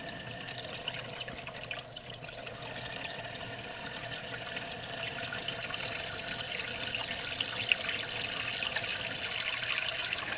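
Water runs steadily from a tap into a container, a continuous gentle rushing and trickling with no voices.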